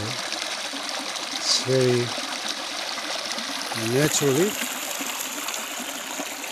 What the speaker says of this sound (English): Can you hear the sound of this water?